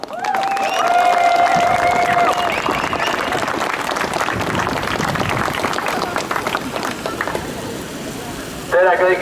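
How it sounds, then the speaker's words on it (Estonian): Crowd applause at an outdoor demonstration in Tartu, Estonia: sustained clapping and some cheering from a gathered group, loud and continuous, with voices mixed in and a brief louder burst near the end. "Aplaus talle!"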